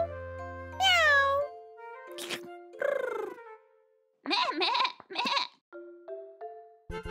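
A voice mimics a cat with drawn-out mews in a children's animal play, mixed with bleating goat-like calls and short musical tones, clear and close.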